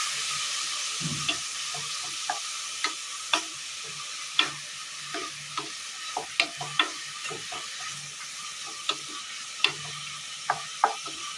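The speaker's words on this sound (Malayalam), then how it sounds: "എല്ലാം ഇട്ട് നന്നായി ഒന്ന് ഇളക്കി കൊടുത്തതിന് ശേഷം" Carrot, tomato and slit green chillies fry in a pan under a steady soft sizzle, with irregular light scrapes and taps of a stirring spoon scattered across it, close by and without talk.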